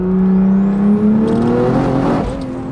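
A big-turbo B58-engined Toyota A90 Supra accelerates hard in fourth gear, its engine note rising loudly and steadily up close with a turbo whine climbing above, then easing off near the end.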